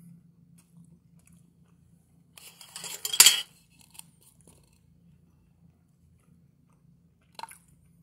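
Metal cutlery scrapes and clinks against a plate while eating a canned fish steak in soybean oil, a short cluster of sharp clatters midway followed by a single faint clink later, close in an otherwise quiet room.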